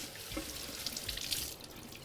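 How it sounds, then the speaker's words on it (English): Running tap water rinses tomato seeds off a cloth, a steady close splash and trickle lasting the whole moment, without speech. "Now we gotta rinse the tomato seeds off of the cloth."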